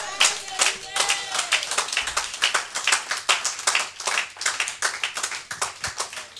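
A congregation claps at a church service, a dense run of rhythmic hand claps in steady beats, close and loud, with a voice faintly underneath.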